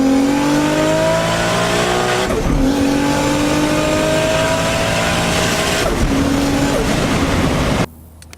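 A 1994 Toyota Supra 6-speed with a Precision 7675 turbo, about 600 hp, revs loudly in repeated rising pulls, each climbing then dropping back, close and continuous until a sudden cut at the end.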